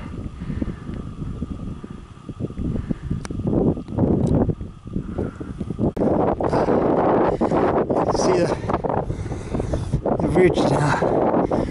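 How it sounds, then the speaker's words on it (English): Cold wind buffeting the microphone on a hill ridge in the Brecon Beacons, a rough gusting rumble that grows stronger and steadier partway through, with someone speaking briefly over it. "Quite a cold wind now, a bit of sun on top."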